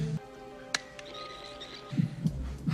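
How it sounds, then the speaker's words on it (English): Heartbeat heard through a doctor's stethoscope in a dark room in the film Ghost Dad: a few faint, soft low thumps, pairs of muffled beats toward the end over a quiet hum, with one sharp click earlier. "tries listening for his heartbeat."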